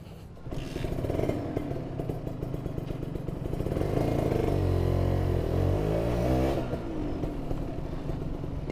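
A Kawasaki Ninja motorcycle fitted with a YZ coil, KX reed membrane and PE28 carburetor idles with a rattly pulse, then revs up loudly and holds a throaty roar before dropping back to idle, close to the mic.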